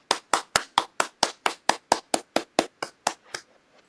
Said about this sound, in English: let's give our guest, Curtis Wilburn, a very, very loud round of applause